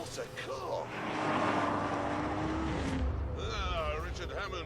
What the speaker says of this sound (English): Richard Hammond driving around in Chatsworth House here